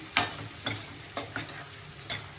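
Eggs frying in oil with chili powder for an egg-garlic chili dish: a spatula scrapes the pan in a steady rhythm, about every half second, over a low background sizzle, with no talking.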